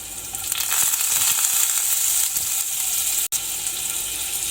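Chopped garlic and finely chopped ginger fry in a pan with a steady hiss over 4.6 seconds, broken by one sharp click near the end.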